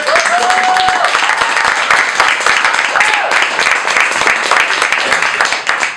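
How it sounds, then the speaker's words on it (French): Audience applause at an improv show, a loud dense wash of clapping that carries on steadily for several seconds, with voices mixed in under it. "Alors, donne un applaudissement pour commencer, s'il vous plaît."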